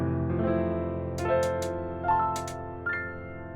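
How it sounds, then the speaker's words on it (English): Stacked chords in a boom bap hip-hop progression, sustained layered harmonies shifting through several changes, with bright percussive accents riding on top, moderately quiet and with no voice. "Now we're going to be utilizing another concept called stacked chords."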